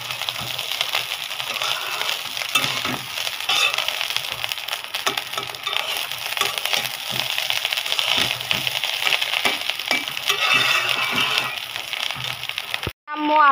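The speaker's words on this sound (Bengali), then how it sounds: "এই যে এখন আম্মু ভেজে নিচ্ছে এটা।" Food fries in a pan, a continuous dense crackle and sizzle that stays loud and steady throughout, with faint talk in the background.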